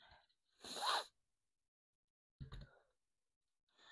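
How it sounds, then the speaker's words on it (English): Two short, breathy sniffs through the nose, close and fairly loud, separated by quiet pauses during an at-home crafting session, with a faint third sniff starting at the end. "I'm sorry for the sniffling"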